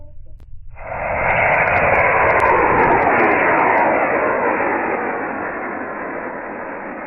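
An Estes model rocket with a C5-3 engine launches, a sudden loud, steady roaring thrust after a faint click, sustained for several seconds and slowly easing off.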